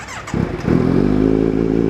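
Kawasaki Z900SE, a 2020 motorcycle fitted with an aftermarket NSPEC exhaust, starts up and settles into a loud, close, throbbing rumble with a steady pulsing beat.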